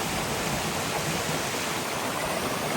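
Creek water rushing over a series of small waterfalls at the top of Sand Branch Falls near Sam Knob, North Carolina, a loud, steady, broadband roar filling the whole clip without talk.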